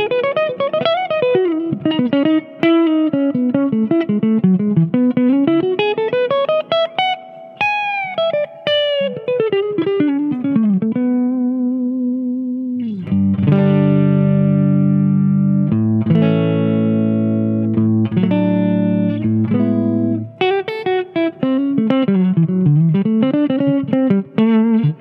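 Electric guitar through a Harley Benton HB-20R amplifier on its clean channel, played alone and close: quick melodic runs and arpeggios, then a stretch of sustained chords, with a somewhat boxy tone.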